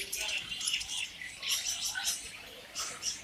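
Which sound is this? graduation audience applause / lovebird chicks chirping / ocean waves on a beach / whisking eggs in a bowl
lovebird chicks chirping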